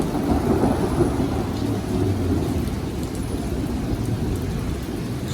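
A thunderstorm in Samara, Russia, with a long, heavy roll of thunder rumbling over a steady wash of rain, loud and close at first, then settling into a sustained low growl and hiss.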